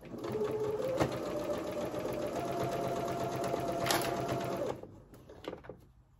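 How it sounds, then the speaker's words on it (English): A sewing machine running steadily while taking a few back stitches in a fabric corner, close and loud with a fast mechanical rattle, then stopping near the end with a few small clicks. "I'm actually taking a couple of back stitches here just to be sure it's really strong in that corner."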